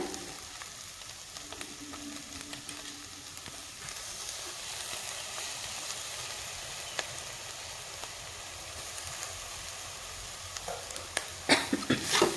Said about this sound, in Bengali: তো ধনে পাতা দিয়ে আমি একটু নাড়িয়ে চাড়িয়ে নেব